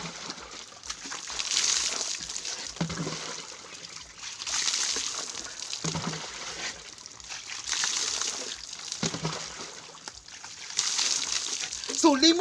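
A dipper pours water over a body four or five times to rinse off soap, giving rhythmic bursts of splashing and sloshing at close range with voices talking in between.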